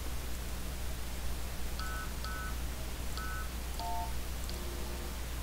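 Keypad beeps from a public phone in the video game Runaway: A Road Adventure: a short sequence of separate dialing tones over a steady low background hum.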